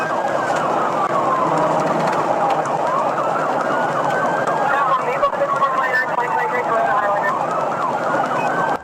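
A police car siren wails continuously during a high-speed chase on the highway, its sweeping tone loud and close throughout, layered over steady road and engine noise with a faint voice underneath.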